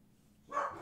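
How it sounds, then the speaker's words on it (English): Dogs barking indoors: after a quiet stretch, one short, fairly loud burst of barking rises and fades at the end. "Sorry guys, my dogs are driving me nuts."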